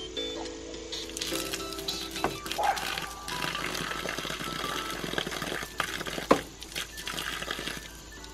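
SmartOmi Ant Bluetooth speaker playing while submerged under water, giving muffled, bubbly, gurgling sound with sloshing and a few sharp knocks, faint and murky throughout.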